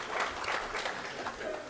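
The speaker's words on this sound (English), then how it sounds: "Let's clap for him again" An audience at a Kenya foreign policy review meeting in Nairobi claps briefly, a dense patter of applause with no clear voices over it.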